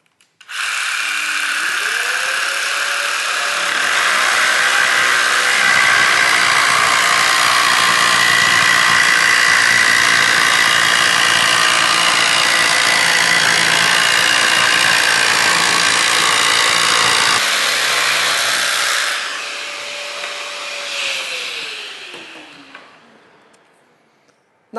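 A jigsaw on pendulum 3-stroke cuts through a countertop: a loud, sustained buzzing saw drone held steady for most of the run, with the motor's pitch rising at the start and falling away as it winds down near the end.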